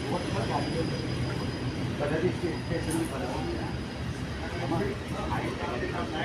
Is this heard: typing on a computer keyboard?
no